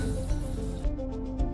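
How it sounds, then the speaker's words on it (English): Tamarind water poured from a container into a pot of cucumber sambar, a short close liquid splash and gurgle lasting under two seconds with no talking. "now I'll add some tamarind water to it."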